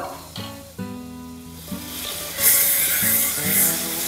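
Butter sizzling in a pan right after paneer has been fried, a close crackling hiss that rises and grows louder partway through, with a few tonal clinks at the start.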